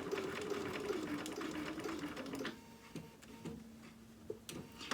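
A sewing machine stitching rounded scallops on a dog outfit, a fast buzzing whir that runs steadily, then breaks into slower stop-start stitching with a few clicks, close and fairly quiet.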